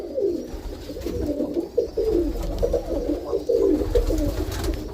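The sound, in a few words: red grizzle roller pigeon cooing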